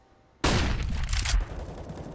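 Grenades and a burst of rapid gunfire in Counter-Strike on the Vertigo map during a bomb-site execute: a sudden loud onset of dense fire that lasts about a second, then a lingering rumble.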